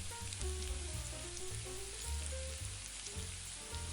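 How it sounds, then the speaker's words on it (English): Fresh lemon juice hitting a hot pan while making chicken limone, giving a steady, close sizzle and crackle like frying that carries through without any talking. "Add the juice of 2 medium-sized fresh lemons."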